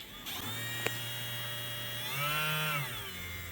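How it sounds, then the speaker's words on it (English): A brushless DC spindle motor on a 3018 PRO CNC machine gives a steady, close electric whine at low speed. Its pitch rises briefly, then settles back. "It's a BL, brushless DC motor, BLDC"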